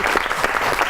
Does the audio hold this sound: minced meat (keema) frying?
no